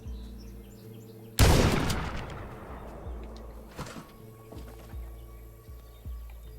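A single loud shotgun blast erupts in a video game, decaying into a long rumbling tail, followed by fainter scattered shots and thuds against a steady background hum.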